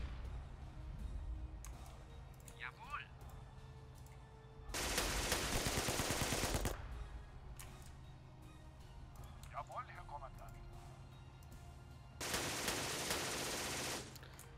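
Two long bursts of rapid machine-gun fire in a World War II video game battle, each lasting about two seconds, loud and dense against quieter background between them, with a voice talking in the gaps.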